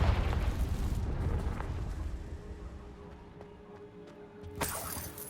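A Confringo spell explosion in the video game Hogwarts Legacy: a loud low boom that fades over several seconds, followed by a sharp burst near the end.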